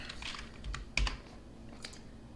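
Quiet typing on a computer keyboard, a short run of soft, close key taps with one slightly louder press, over a low background hum.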